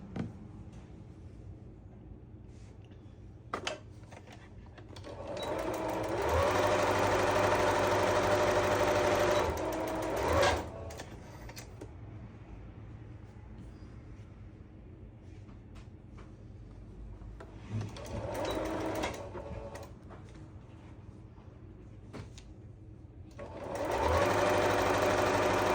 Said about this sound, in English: Now I'm gonna sew this row the same way and this row the same way.